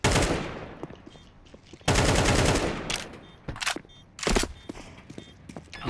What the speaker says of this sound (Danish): Det er skud.